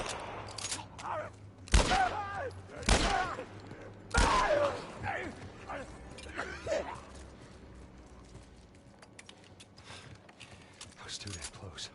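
Gunfire in The Last of Us Part I, with several loud separate shots spaced a second or two apart, each followed by a ringing decay, then quieter scuffling and movement, with a voice talking at moments.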